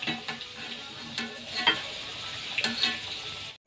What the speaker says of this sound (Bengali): আলুগুলো হালকা হালকা ভাজা হয়ে গেছে